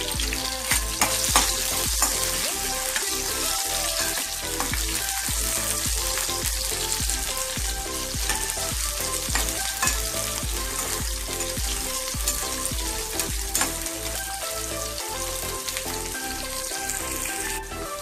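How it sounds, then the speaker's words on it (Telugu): Okra pieces frying in a pan, being stirred the whole time, a dense, loud, continuous sizzle and crackle close up with rhythmic scraping of the spatula, no voices. "ఇలా బెండకాయ ముక్కలు కొద్దిగా వేగిన తర్వాత"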